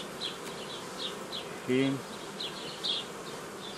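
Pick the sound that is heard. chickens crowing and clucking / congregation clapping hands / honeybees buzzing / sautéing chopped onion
honeybees buzzing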